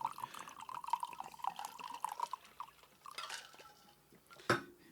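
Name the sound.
bottled water pouring through a pour restrictor into a glass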